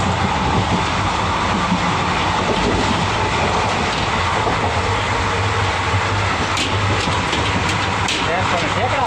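An empty passenger train running through the Junagadh area during the Mahashivratri fair, with a steady broadband rumble and clatter of the carriages throughout, loud and close, under faint background voices.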